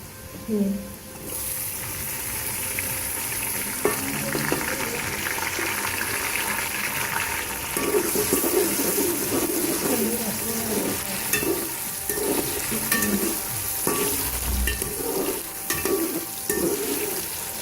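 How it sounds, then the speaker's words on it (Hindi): Tomatoes and green chillies sizzle and fry with onions in a pan while potato and fenugreek sabzi is cooked. A steady crackle runs throughout, with stirring scrapes and a voice speaking partway through. "अब इसमें हम टमाटर और हरी मिर्ची शामिल कर देंगे"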